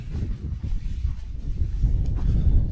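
Wind gusts buffet a microphone at an exposed hilltop wild camp on the Mendip Hills, a low rough roar that swells and builds louder toward the end, with no voices.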